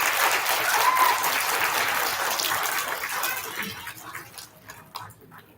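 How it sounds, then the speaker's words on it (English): An elementary school audience applauds kindergarten award nominees at a student recognition assembly, a steady patter of clapping that gradually thins out and fades. "Let's give our kindergarten nominations a round of applause."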